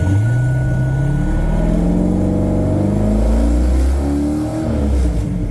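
Drag race car engine running loud and close after a no-start fault, its low rumble rising and falling through several throttle blips before settling.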